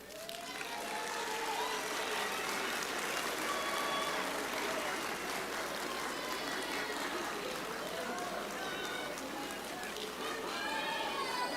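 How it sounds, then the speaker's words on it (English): Applause from graduates honoring their families at a nurse pinning ceremony, a continuous dense wash of clapping heard from a distance and faint overall, with crowd voices mixed in. "Turn around and find your families and give them a round of applause."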